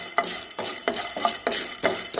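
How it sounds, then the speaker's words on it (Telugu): Chana dal being dry-roasted in a pan for bitter gourd podi, stirred with repeated scraping strokes about every half second against a soft sizzle, close and fairly quiet, with no voices. "బాగా దోరగా వేగాలి"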